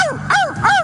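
A person imitating a dog at a campaign rally, giving two or three short, loud, yelping barks in quick succession, close up with no other talk.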